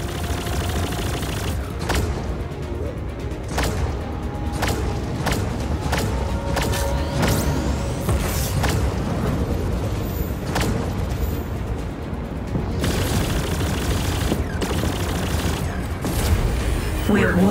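Spaceship weapons firing in the space combat game Chorus: a dense, continuous barrage of rapid blasts and booming impacts, loud and sustained throughout with sharp repeated shots over a rumbling low roar.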